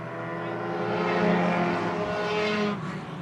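Street stock race cars roar around an oval track in a close pack, engines loud and near with a sustained droning rev that swells midway and fades slightly as they pass.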